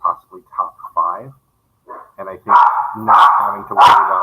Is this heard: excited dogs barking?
yes